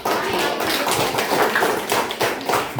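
A classroom of students claps hands together, a dense run of quick, close, fairly loud claps in an uneven rhythm lasting a few seconds.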